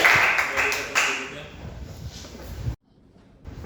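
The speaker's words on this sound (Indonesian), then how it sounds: "tepuk tangan dulu untuk kelompok terakhir" A classroom audience applauds the final student group after their presentation in a vocational school teaching session, a burst of clapping that fades, cuts briefly to near silence, then returns faintly.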